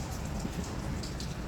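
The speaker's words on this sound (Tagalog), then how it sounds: "Sobrang lakas ng ulan guys." Heavy rain pours outside a flat in Hong Kong, a steady dense hiss of falling water with scattered drops spattering on surfaces, heard from behind a closed terrace door.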